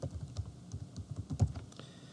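Soft computer keyboard typing of a test email address, a quick irregular run of light key clicks, close and fairly quiet with no talking.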